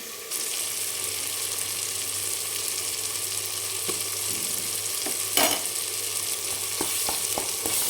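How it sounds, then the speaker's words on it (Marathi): Onions sauté in a pan for a mutton curry, a steady close sizzle with a few light stirring clicks and scrapes toward the end and no talking. "कांद्याला पण आपण कच्चेपणा जाईपर्यंत परतून जायचं आहे"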